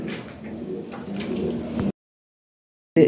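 Lahori pigeons give low, throaty coos nearby for a couple of seconds, then a sudden silence and a brief burst of sound.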